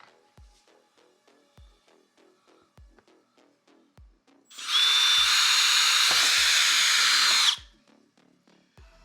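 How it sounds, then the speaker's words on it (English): A power drill whines loudly and steadily for about three seconds, drilling through carbon fiber close by, with soft rhythmic clicking before and after. "when I push to drill the carbon fiber"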